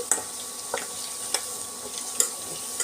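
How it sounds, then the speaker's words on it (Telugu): Amla gooseberry pieces for a pickle frying in a pan, a quiet sizzle with a few distinct ladle taps and scrapes as they are stirred, no voices. "ఇవి కూడా బాగా ఫ్రై అవ్వాలంటే ఇలా కలుపుతూ ఉండాలి ఇప్పుడు ఏంటంటే అన్ని వైపులా ఫ్రై అవుతుంది"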